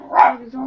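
A dog gives a single short bark, close and fairly loud, heard briefly under someone speaking French.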